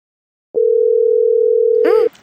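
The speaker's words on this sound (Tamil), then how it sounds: "ரிங் போகுது." Single long steady phone ringback tone on an outgoing call in a Tamil cartoon, loud and close, beginning abruptly, with a brief voice over its final moment.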